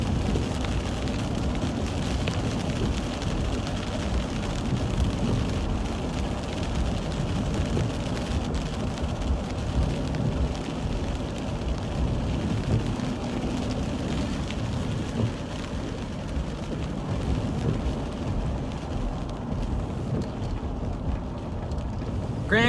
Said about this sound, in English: Much lighter rain now.